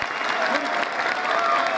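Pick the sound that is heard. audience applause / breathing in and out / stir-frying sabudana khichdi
audience applause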